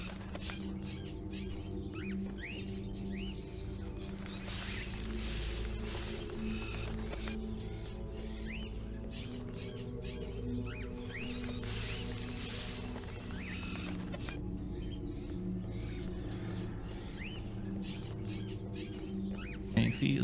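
Pigeons cooing in the video game Fahrenheit: Indigo Prophecy, soft repeated coos and light chirps over a steady ambient bed, continuous and fairly quiet.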